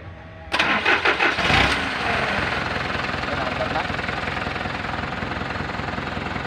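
A car engine with a weak battery cranks for about a second and catches, then settles into a steady, loud idle, heard close during an alternator wiring test.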